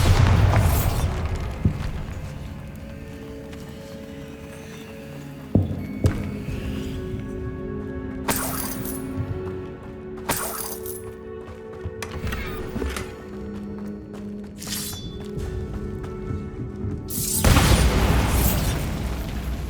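In the PS5 game Hogwarts Legacy, a Bombarda spell goes off with a sharp burst that opens an explosive boom, followed by scattered pops and crunches over a steady tonal game ambience, ending with another loud burst.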